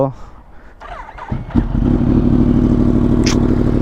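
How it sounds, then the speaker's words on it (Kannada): A Yamaha R1 superbike with a titanium exhaust fires up and holds a loud, steady, throaty engine note close by, after a second or so of quieter background noise and a voice. "ಎಕ್ಸಾಸ್ಟ್ ನೋಟ್ ಅಂತೂ ಅಲ್ಟಿ"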